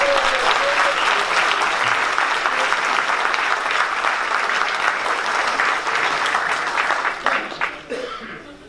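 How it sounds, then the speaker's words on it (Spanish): A crowd applauds a singer named Beatriz at a music event, with dense, loud, sustained clapping mixed with a little laughter that holds steady, then thins out and fades near the end. "Un aplauso para Beatriz, ¿no?"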